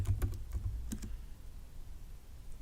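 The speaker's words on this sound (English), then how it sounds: "Sorry for the typing noise." A few quick keyboard keystrokes at the start, close and crisp, then a brief pause and two more taps before a low room hum.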